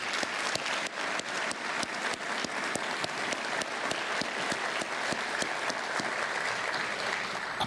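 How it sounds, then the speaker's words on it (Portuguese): Applause from the audience at a government ceremony, steady clapping from a crowd with some sharp individual claps standing out at a regular pace, sustained evenly for several seconds. "Mas Vladimir Kulteles e Igor Vilas Boas, a quem eu peço uma salva de palmas, foram os elaboradores da ideia."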